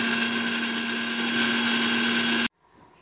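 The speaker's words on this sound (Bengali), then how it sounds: "কয়েকটা কাঁচা লঙ্কা আর পেঁয়াজ একসঙ্গে বেটে নিচ্ছি।" A blender grinds green chillies and onion with a loud, steady whirring drone, constant in pitch, then cuts off abruptly into near silence.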